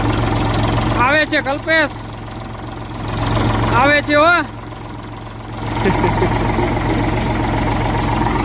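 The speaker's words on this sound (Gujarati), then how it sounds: "ગજબની તાકાત ઉતર્યો આ ટ્રેક્ટરમાં" A tractor engine running with no driver, heard as a low, steady idling rumble throughout while a man calls out over it.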